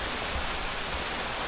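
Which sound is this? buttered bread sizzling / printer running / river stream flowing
river stream flowing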